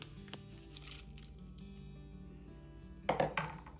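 Fried peanuts with curry leaves are mixed into a leftover-rice batter, with soft scraping and squishing of a utensil in a pan, ending in a few louder metallic clanks close by.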